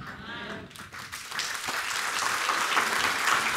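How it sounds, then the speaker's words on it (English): Church congregation applauding during a sermon, a dense wash of clapping that grows steadier and slightly louder, with a few brief voice fragments near the start. "You keep clapping when you want."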